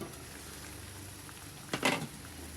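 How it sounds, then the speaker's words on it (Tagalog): Quiet bubbling of water boiling in a covered pot for sinigang, a soft steady simmer with a brief louder burst of bubbling near the end. "Kumukulo na."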